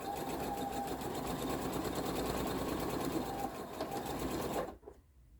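Sewing machine chain piecing straight quarter-inch quilt seams, one loud, steady mechanical whir running continuously up close for several seconds before stopping abruptly.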